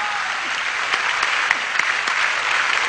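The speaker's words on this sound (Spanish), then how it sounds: "un aplauso al UNESCO para que la gente viva más" Steady, dense audience applause from a comedy show crowd fills the whole stretch at even loudness, a continuous wash of many hands with a few sharper claps standing out.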